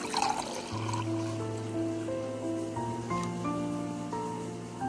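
Hot water pours steadily into a cup for drinking, a continuous close trickle whose tone climbs as the vessel fills.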